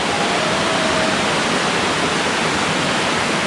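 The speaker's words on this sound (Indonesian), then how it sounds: "Jadi bisa dilihat ini aliran sungai air terjun Jumok." The Jumog waterfall and its river stream in Karanganyar, on the slopes of Mount Lawu, give off a constant, dense rush of falling and flowing water. It is even and unbroken throughout, with no voices.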